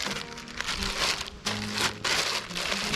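A plastic bag crinkles and crumples close up as a Trangia alcohol stove is packed into it, with steady rustling and a few sharper crinkly bursts and no talk.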